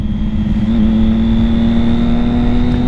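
A Triumph Daytona 675 motorcycle engine, a 2006 model, droning at a steady, loud pitch while being ridden, with a continuous hum that rises gently, close up, and no talk.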